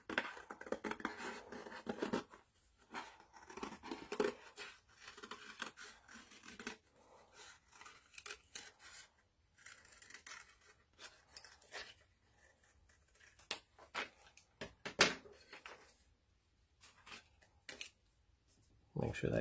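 Scissors snip out a piece of paper glued down for a family treasures craft: irregular, close, quiet cuts and rustles come in short bursts, with soft talk in the background.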